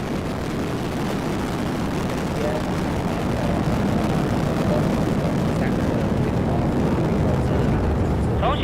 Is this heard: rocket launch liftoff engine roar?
yes